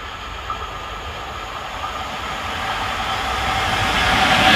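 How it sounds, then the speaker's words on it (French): A train approaching a level crossing, a steady rumble building gradually louder over several seconds with faint wheel and rail noise, no voices. "je crois qu'un train qui approche"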